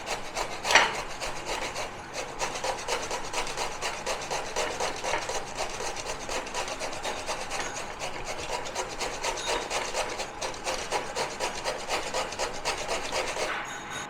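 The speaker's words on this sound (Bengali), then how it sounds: "পেয়ারা কাটছি না, গোটাটাকেই গ্রেট করবো।" A whole guava rubbed against the coarse side of a grater, a steady rasping scrape repeating in even strokes for the full length, close and alone without speech.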